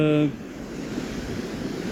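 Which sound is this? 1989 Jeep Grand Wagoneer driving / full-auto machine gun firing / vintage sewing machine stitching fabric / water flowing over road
water flowing over road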